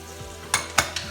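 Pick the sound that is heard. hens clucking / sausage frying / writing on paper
sausage frying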